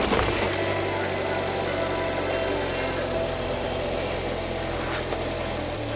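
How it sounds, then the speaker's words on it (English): An Alfa Romeo MiTo 1.4 Multiair engine idles steadily and close by, a constant low hum with a slight rattle and vibration and no pauses. "Now with the cup open, we turn the engine on."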